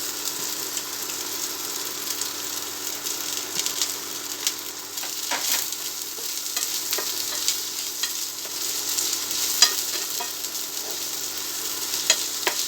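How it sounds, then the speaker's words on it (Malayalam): Thinly sliced onions sizzle and fry in hot oil in a village kitchen in Ooty, making a steady close crackling hiss with small pops and occasional stirring scrapes throughout. "നമ്മൾ ഈ എണ്ണയിൽ തന്നെ ഈ അരിഞ്ഞ് വെച്ച ഉള്ളിയിട്ട് കൊടുക്കാം"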